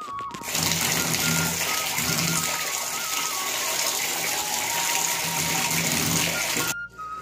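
Steady gush of running water, loud and continuous, like a tap flowing over vegetables in a basin, cutting off briefly near the end.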